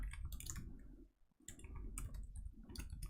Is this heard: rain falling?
no